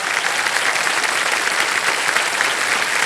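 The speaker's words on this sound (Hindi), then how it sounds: "तो तालियां बज जाएं एक बार इनके लिए।" A studio audience on the game show KBC (Kaun Banega Crorepati) breaks into loud, sustained applause, a dense steady wash of clapping with no voices over it.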